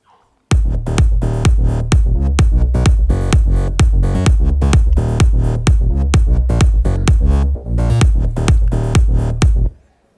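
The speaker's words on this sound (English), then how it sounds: "where we're gonna show you the kick and the bass" Kick drum and bass from a dance track, a steady four-on-the-floor pulse of punchy kicks locked with a deep bassline, loud and continuous with one short dropout.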